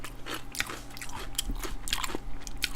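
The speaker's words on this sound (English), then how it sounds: "we'll crunch more chips into the microphone" Chips crunched right into a microphone, a rapid series of close, loud, crackly bites and chews running throughout with no talking.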